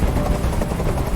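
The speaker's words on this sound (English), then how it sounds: "I can't stand that noise anymore. Tell that helicopter to get out of here." A helicopter hovers overhead in Detroit: Become Human, its steady rotor thrum loud and close, filling the whole short moment without any voices.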